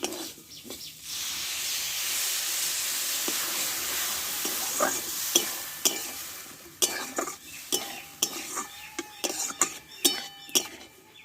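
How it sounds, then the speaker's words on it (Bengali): Pumpkin stirred in a pan with a little added water, a steady sizzle and hiss of steam with sharp scrapes and clinks of a utensil against the pan growing more frequent toward the end. "জল দিয়ে একটু নাড়াচাড়া করে আমি ভালো করে সিদ্ধ করে নেবো"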